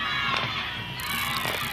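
Outdoor crowd at the 1997 Zozobra burning with fireworks, a steady mass of voices shouting and chanting with scattered cheers and children's yells, a couple of thumps rising through the continuous roar.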